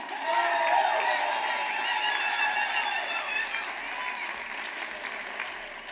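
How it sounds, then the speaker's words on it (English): A conference audience applauds and cheers for a speaker taking the stage, strong clapping mixed with whoops and shouts that peaks early and then gradually softens. "Give a round of applause"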